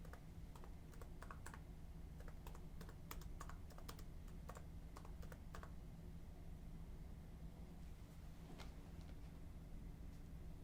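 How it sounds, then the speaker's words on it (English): Typing on a computer keyboard to enter a location, a quiet close run of irregular key clicks in bursts over a faint steady background hiss, with no talk. "Now, I'm going to type in the actual location."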